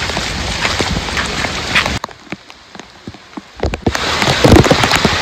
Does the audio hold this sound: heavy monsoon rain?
yes